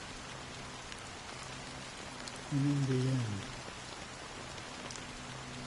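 Steady rain falls throughout a scene in the video game Honkai Star Rail, a constant soft hiss of drops with a brief spoken line partway through.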